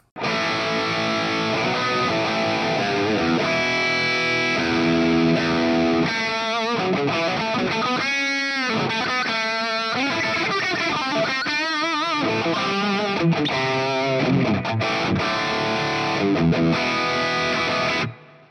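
An electric guitar played through the Classic 800 amp model of a HOTONE Pulze Mini gives a loud, distorted tone with a little hall reverb, sustained chords followed by busier riffing, with no talking.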